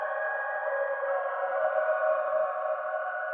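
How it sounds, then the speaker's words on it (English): A sustained orchestral drill melody loop with large hall reverb rings out smoothly, the chords held and blended into a wide, washy tail, alone with no voices. "I want to make this really big sounding, so we're going to go to large hall."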